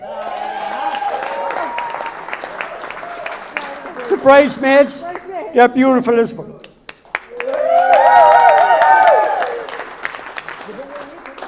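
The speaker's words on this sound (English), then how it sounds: "Let's give a round of applause as well." Wedding guests applaud and cheer in a reception hall, with bursts of clapping and whoops from the crowd as a man gives a speech through a microphone.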